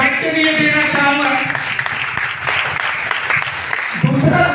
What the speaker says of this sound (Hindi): तो एक बार जोरदार तालियां मैं रेनेटस नोवा के प्रोडक्ट के लिए देना चाहूंगा